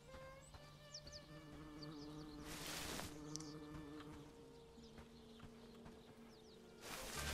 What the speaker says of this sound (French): je suis sûr que les abeilles qu'on entend là, elles ont une existence propre